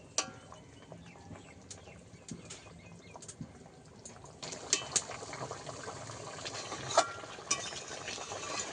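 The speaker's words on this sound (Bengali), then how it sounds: "এবারে মাছগুলোকে একটু বিছিয়ে দেবো, দিয়ে ভালো করে ফুটিয়ে নেব।" A pot of hilsa fish curry with taro and potato simmers quietly, giving faint bubbling pops and soft crackles that grow busier partway through.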